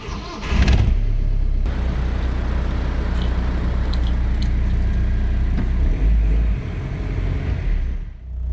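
A Volkswagen Golf TDI diesel engine fitted with solid engine mounts runs steadily, a rough low rumble with a sharp knock near the start and some fluctuation, close and fairly loud with no talk.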